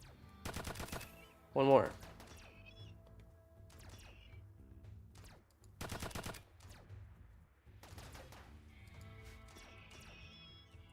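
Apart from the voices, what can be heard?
gunfire from guns in the video game RimWorld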